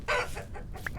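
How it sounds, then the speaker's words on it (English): A chicken in the Vintage Story survival game gives a short clucking call, a quick burst of a few clucks followed by a brief higher note, moderately close and alone. "And that's a chicken."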